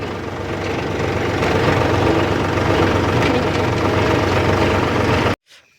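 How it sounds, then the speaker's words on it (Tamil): A vehicle engine with a faulty silencer that is spitting flames runs close and loud, a rough, steady low rumble with a knocking edge that cuts off abruptly after about five seconds. "வண்டியில் சொல்ல முடியாத அளவுக்கு பிரச்சனை வருது சைலன்சர்லேருந்து தீயெல்லாம் எட்டி பார்க்குதுங்க"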